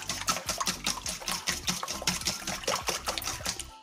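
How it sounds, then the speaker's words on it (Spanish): Eggs are beaten in a bowl with a fork or whisk, giving rapid rhythmic clicking strokes with wet sloshing, heard close and alone at an even, brisk pace. "lo único que tenemos que hacer es ir batiendo los huevos"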